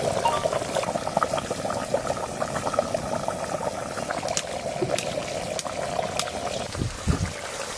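Bai fish curry simmers in a clay pot in a village kitchen, giving a steady, close bubbling sizzle that runs unbroken throughout, with a few soft knocks near the end.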